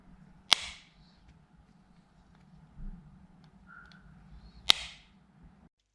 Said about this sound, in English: Have I mentioned before how satisfying opening and closing this case was?